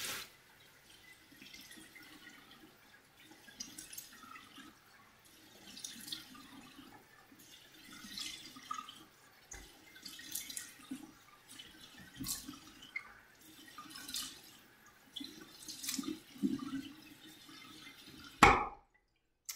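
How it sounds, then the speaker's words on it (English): Water runs and splashes intermittently from a tap as a face is rinsed of cleanser, soft bursts of flow and dripping at close range, alone and fairly quiet, ending in a sharp knock. "we wanna rinse and get all of this cleanser off our face"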